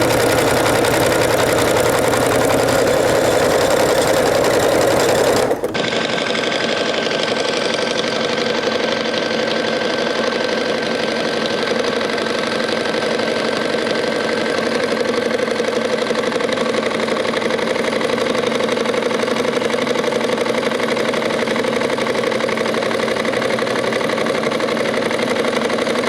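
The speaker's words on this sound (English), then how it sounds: "you're actually going to stitch over some of your previous stitches" A sewing machine stitches around the corner of a fabric table topper, back-stitching over earlier stitches to make a sharp corner. A loud, steady motor hum runs almost throughout, starting with a brief change in pitch and settling into a continuous whir.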